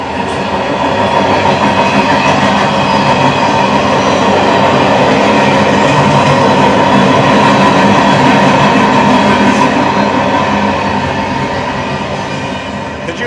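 A train rolls steadily past at close range, a loud continuous rumble of wheels and railcars with faint clickety-clack, holding level for the whole stretch before easing slightly at the end.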